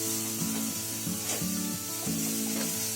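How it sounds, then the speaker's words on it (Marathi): Chopped onion fries in a pan for a pepper mushroom dish, giving a soft, continuous sizzle and crackle with faint scraping, alone and fairly quiet. "आता इथे आपला कांदा पण फ्राय व्हायला आलाय"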